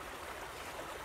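Water flowing in a local creek, a steady, soft rushing wash with no talk.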